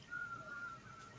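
A thin, faint whistle drifts through a studio, one wavering sustained tone lasting about a second over a low background hum.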